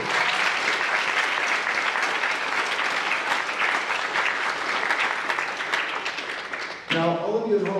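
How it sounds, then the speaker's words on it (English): Sustained applause from a school concert audience for the symphonic band, dense and steady for several seconds before a voice begins speaking near the end. "Let's give another round of applause to the Symphonic Band and Mr. Angelis up here."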